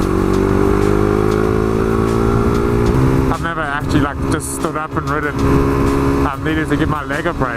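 A KTM 390 Duke motorcycle ridden with the rider standing up gives a steady engine drone with wind rush, running continuously beneath someone talking close by.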